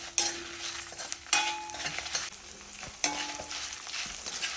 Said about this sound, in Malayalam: കുറച്ച് ഉലുവയും ഉലുവയും കൂടി ഇട്ട് കൊടുക്കാം എന്നിട്ട് നല്ലോണം ഒന്ന് വറുത്തെടുക്കാം